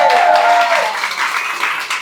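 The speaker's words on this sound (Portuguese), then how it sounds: "eu gostaria que todos dessem uma salva de palmas para Rudolf." An audience at a company gathering applauds, a short burst of clapping that fades slightly, with a voice overlapping briefly at the start.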